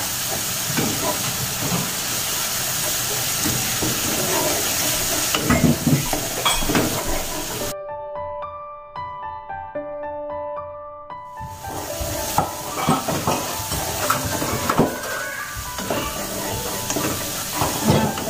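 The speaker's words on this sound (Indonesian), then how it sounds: "seperti ini kita aduk sampai harum ya" Spice paste stirred and frying in oil in a pan for lontong cap go meh, a loud continuous sizzling hiss with scraping stir strokes, briefly cutting out midway before returning.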